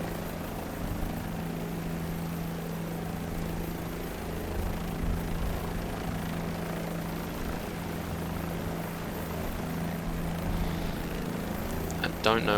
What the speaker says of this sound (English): pretty new to this helicopter here